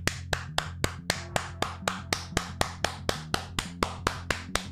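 Rapid clapping in a video game: about sixteen sharp, evenly spaced claps in a steady rhythm, loud and close, with no speech over them.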